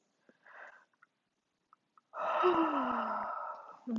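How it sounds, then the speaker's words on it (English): Slow deep breathing during a gentle seated chair yoga session: a short inhale, a pause, then a long, close, audible exhale with a slight voiced sigh running for almost two seconds. "starting to take some deeper inhales and exhales"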